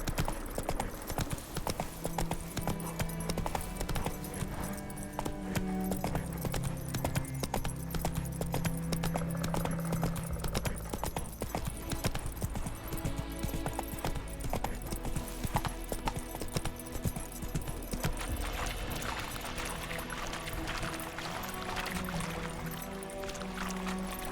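Hooves of Geralt's horse Roach in The Witcher 3 next-gen update, a steady galloping clip-clop throughout, moderately loud beneath a busy game soundtrack with music and ambient effects.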